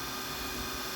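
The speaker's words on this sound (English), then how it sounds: "just heating up my heat tool" Steady, even whoosh of an embossing heat tool running close by, a constant airy blower hiss with faint hum and no changes throughout.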